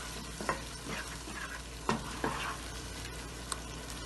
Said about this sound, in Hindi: टमाटर डालेंगे। थोड़ा सा इसको भूनेंगे।